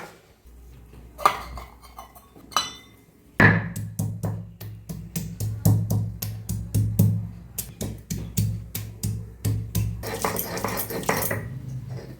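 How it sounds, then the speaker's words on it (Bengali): Ginger and garlic are ground on a stone grinding slab for a Bengali chicken curry, making rhythmic, close scraping and knocking strokes that repeat steadily at about one per second after a few scattered taps. "আদা রসুনটা আমি শিলে বেটে নেবো।"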